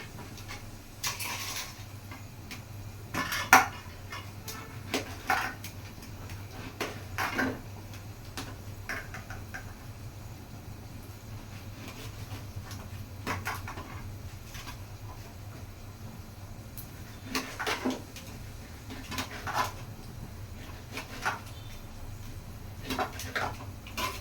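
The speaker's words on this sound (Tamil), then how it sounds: "இப்போ நம்ம கத்திரிக்காவை நறுக்கிக்கலாம்." Soft, regular knife taps on a cutting board while chopping eggplant, spaced steadily apart, faint against a low background hum.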